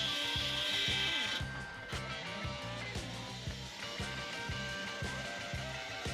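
A Terco stripping disc grinds along a steel boat hull, a steady abrasive whir with a rhythmic scraping pulse as the disc works across the plates, loud and close with no voices.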